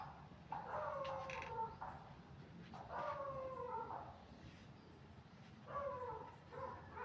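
A dog barks and yowls in three separate bursts from some distance away, faint against a low background rumble.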